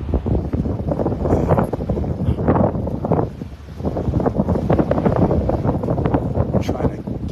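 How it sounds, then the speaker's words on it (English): Strong wind buffets a boat at sea during an evening sunset cruise, a loud continuous rushing roar battering the microphone with gusty surges and a short lull midway. "I'm trying to get out of the wind here. Still pretty breezy out here."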